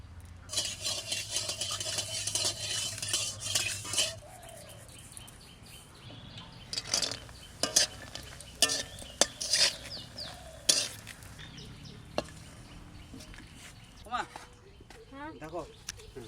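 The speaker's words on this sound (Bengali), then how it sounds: "ডালের বড়ি কটা ভেজে নেব।" Lentil dumplings (dal bori) fry in a pan at a riverside village kitchen, with metal spoon scrapes and clinks on the pan over a faint sizzle, intermittent and close, while people talk and a rooster calls in the background.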